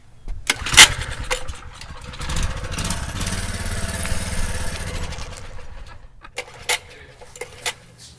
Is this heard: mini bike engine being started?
yes